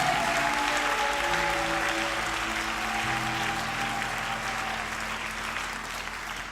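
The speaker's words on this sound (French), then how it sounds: "applaudissons très bien pour le Seigneur." A congregation at a French-language prayer service claps steadily, a dense, loud wash of applause that fades slightly toward the end.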